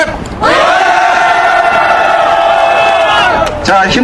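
A large crowd at a street rally protesting alleged election fraud roars a sustained loud shout in unison for about three seconds, then breaks off into scattered voices.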